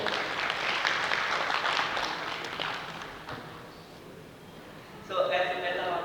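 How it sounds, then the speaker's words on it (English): Audience applause at a health conference session, a dense spread of clapping that fades gradually, followed by a voice beginning to speak. "Please let's clap."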